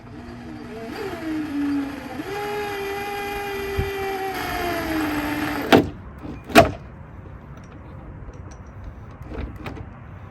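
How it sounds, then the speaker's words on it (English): An electric drill whirs with a rising, steady whine for several seconds, then cuts out, followed by two sharp knocks. "I really just got to drill the hole and go from there."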